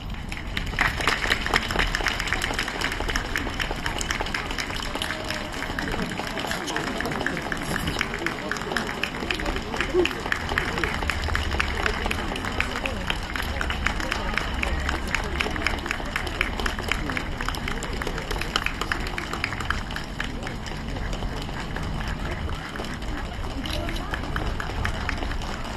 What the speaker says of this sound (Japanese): 盛大な拍手をお願いいたします